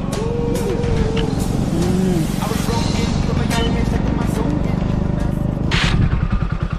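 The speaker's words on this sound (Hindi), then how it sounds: "सो अब दोस्तों यहाँ पे बाइक चलाएगा" A motorbike rides along a quiet rural road in India, its engine droning steadily and close throughout with road and wind noise, while people talk over it.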